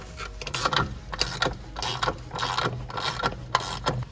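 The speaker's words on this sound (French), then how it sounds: "il y a juste à serrer la vis avec une clé de 13." A 13 mm wrench turns a screw on the belt clutch of a Can-Am Maverick side-by-side, giving repeated ratcheting clicks in a steady rhythm of short bursts, close and fairly loud, with no talking.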